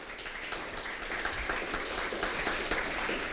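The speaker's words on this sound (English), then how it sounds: "So if we can give the school a big round of applause." Audience applause for the school at Virginia Tech during a presentation, a steady wash of many hands clapping, moderately loud and sustained without talk.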